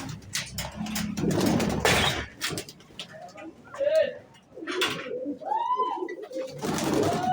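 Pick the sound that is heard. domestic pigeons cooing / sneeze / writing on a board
domestic pigeons cooing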